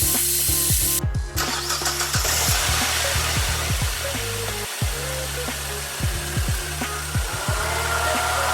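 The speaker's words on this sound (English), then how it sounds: "crank the engine to see if it starts and listen for any unusual noises" A Mazda Protege engine cranks with repeated rhythmic whirs, loud and close, turning over again and again without catching.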